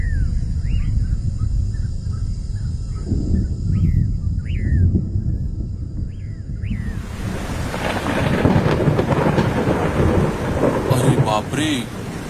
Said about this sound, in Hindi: अरे लगता है बहुत तेज बारिश होने वाली है।